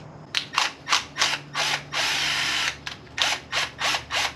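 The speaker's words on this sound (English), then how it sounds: "Drill a hole in there" Power drill boring a hole in a part of a potato cannon, in a series of short whirring bursts with one longer sustained run in the middle, close and loud with no talking.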